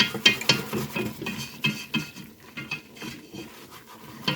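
A utensil scrapes and taps around a pan while flour is stirred for a white sauce, giving irregular clinks and scratchy rubbing strokes, close and fairly clear with no talking.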